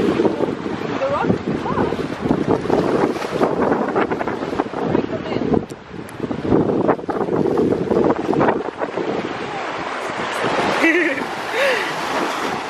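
Strong wind gusts buffet the microphone on a cold, rocky seaside in Sweden, with broad steady roaring noise throughout and a person talking over it.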